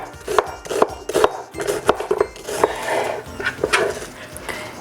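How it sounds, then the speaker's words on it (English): A knife slicing onions on a wooden cutting board for crock pot sausage and peppers, steady rhythmic chops and scraping strokes, close and fairly crisp, with no talking. "Now we're gonna work on our onions, and these I'm just gonna slice up."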